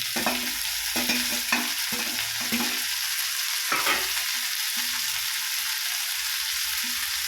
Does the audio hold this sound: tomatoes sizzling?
yes